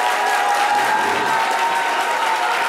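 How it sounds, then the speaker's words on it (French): Audience applause in a French studio show, a dense continuous wash of clapping at full strength throughout, close and loud with no pauses or talking over it. "Est-ce qu'on peut applaudir pour l'animateur du..."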